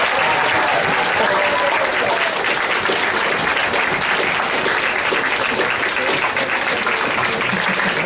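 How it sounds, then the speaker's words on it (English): A hall audience at a guitar night awards presentation gives sustained, dense applause, loud and steady from start to finish without a break. "please applaud Ethan"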